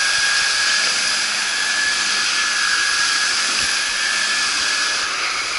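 A Miele canister vacuum cleaner runs steadily, a loud continuous whooshing motor drone with a faint whine that stays level throughout, with no talking.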